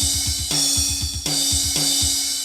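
A MIDI drum track plays back in Cubase with rapid double-bass kick patterns under a thick wash of cymbals and steady snare hits, machine-tight and loud, with no voices.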